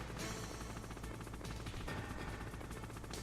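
Sustained rapid gunfire and rocket blasts from a boss fight in the Metal Gear Solid video game, a dense continuous barrage heard at moderate level with no talking.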